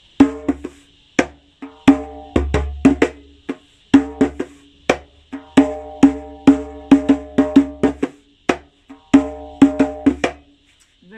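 A hand groove with soft tapped ghost notes filling the spaces between the main slaps and tones, giving a busier, continuous rolling rhythm; the strokes are close and clear, with no voice.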